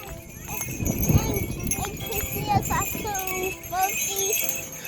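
Donkey hooves clip-clop on a beach during a donkey ride, a light irregular patter under people chatting and calling out nearby.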